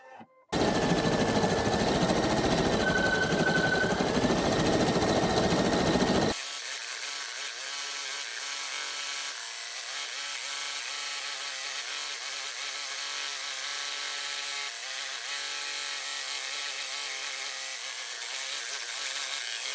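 A Baby Lock Flare embroidery machine stitches a design with a loud, steady mechanical hum at close range, continuing at a lower, more even level for the rest of the time, no talking.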